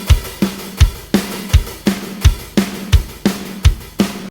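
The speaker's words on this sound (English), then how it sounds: "When you have the more traditional, let's say, rock beat, you have the snare and the kick drum all on the beat." A traditional rock drum beat, kick and snare landing together on every beat in a steady, even pulse of about ten punchy hits, loud and close with no other instruments.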